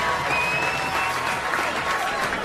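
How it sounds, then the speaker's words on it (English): A live audience cheers and applauds at a hypnosis show, producing a dense, steady wash of clapping and crowd noise that holds at an even loudness throughout, with no individual voices standing out. "Give them all a big cheer as they make away."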